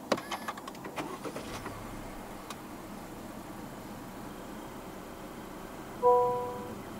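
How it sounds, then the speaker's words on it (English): A 2022 Honda Civic 1.5 Turbo sits quiet with a few faint clicks, then its engine catches after the start button is pressed, giving a short rising whir that settles into a soft idle. "Put your foot on the brake and press the start button to the right of the steering wheel."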